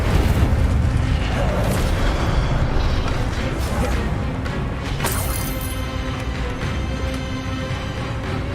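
Incendio fire spell cast during combat in the video game Hogwarts Legacy: a loud, continuous roar of whooshing flames and crashing blasts, with bright crackling bursts around the middle, filling the whole stretch.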